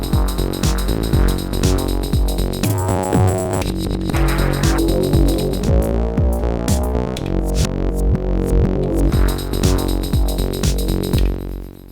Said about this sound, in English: You could do stuff like do that right into the echo freeze.